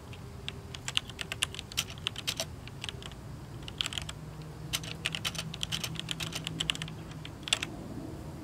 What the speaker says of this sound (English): The keyboard I have with it is a particularly satisfying Wy-60 with an ASCII layout and what looks like Cherry MX switches under the hood.